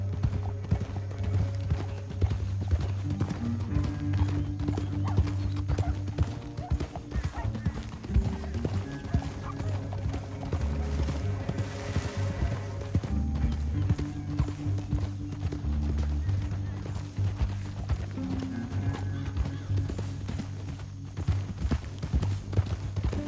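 Horses' hooves clip-clop steadily in Red Dead Redemption 2, a continuous patter of riding across a canyon under a low musical score, with an occasional whinny and characters speaking at times.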